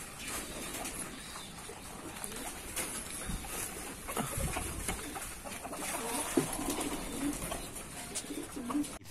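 Pigeons coo repeatedly close by in a loft, soft throaty calls rising and falling over light rustling, wing flutters and faint background noise.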